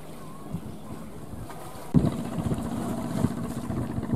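Large Vietnamese fishing boat drawing in to dock at sea on a calm day, a low engine rumble with wind and water noise, a thump partway through followed by louder knocking and engine sound.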